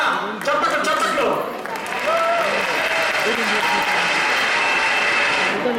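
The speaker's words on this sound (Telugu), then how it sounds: "ప్రజలారా చప్పట్లు చప్పట్లు." Audience clapping during a Telugu election skit, a steady wash of applause from a crowd that swells and holds, while a voice talks over the start.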